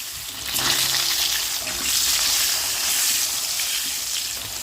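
Potatoes dropped into hot oil tempered with panch phoron and radhuni, a loud steady sizzle and crackle that swells right after they go in and keeps bubbling close by without any talk.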